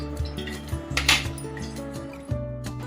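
Ghee and gram flour stirred together in a pan for Mysore pak, a spoon scraping and clinking against the metal in an irregular rhythm, fairly close with a low hum underneath.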